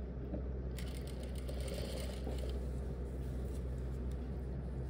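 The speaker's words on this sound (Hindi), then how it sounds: "इस पार्ट के साथ अब जिप को स्टिच कर देंगे।" A sewing machine stitches a zip onto formal pants, running as a steady, continuous mechanical whir with no pauses and no talking.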